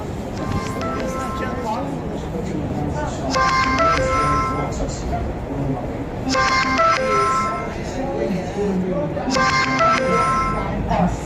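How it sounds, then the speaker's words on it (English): A mobile phone plays a repeating melodic ringtone for an incoming call in short bursts every few seconds, heard over steady crowd and street noise around 34th Street near Grand Central. "I'm getting a phone call."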